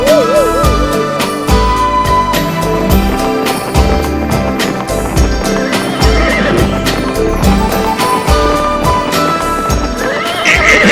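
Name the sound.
horse neighing, cartoon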